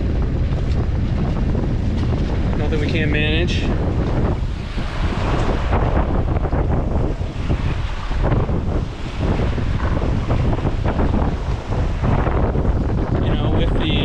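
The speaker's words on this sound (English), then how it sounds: "It's blowing pretty good. Definitely got some gusts out here" Strong, gusty wind roars across the microphone aboard a sailboat under a reefed sail and a sliver of jib on the Chesapeake Bay, with waves washing beneath; it stays loud and constant while someone talks briefly.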